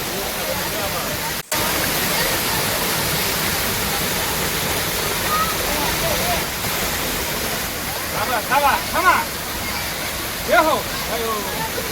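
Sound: stream water flowing at Jatashankar Mahadev, Junagadh

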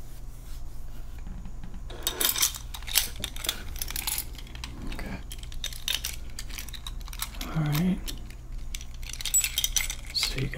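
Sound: house keys jingling

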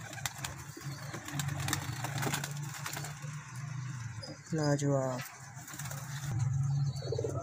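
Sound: Teddy pigeons cooing

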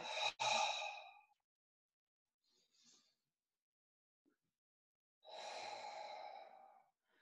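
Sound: abdominal breathing during yoga exercise

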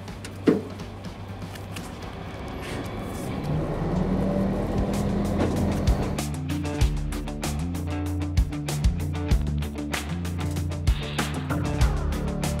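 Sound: car driving

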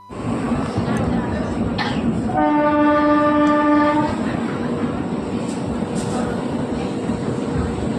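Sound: passenger train arriving at Kolaghat station

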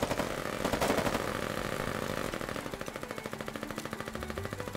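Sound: SMG gunfire in the video game Foxhole

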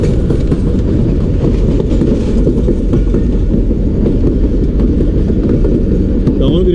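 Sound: Jaffar Express train running on rails, Bolan Pass

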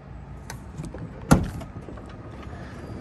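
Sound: Mercedes van power sliding door operating

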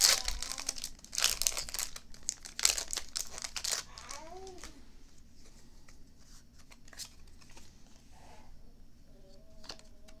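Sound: opening Pokémon Sword and Shield card pack foil wrapper

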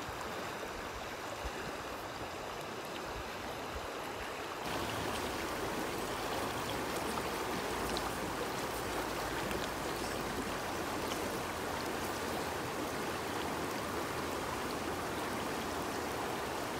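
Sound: Buna River stream flowing

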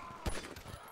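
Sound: gunshot in video game Grand Theft Auto V

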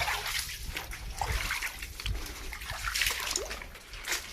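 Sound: water flowing in a stream

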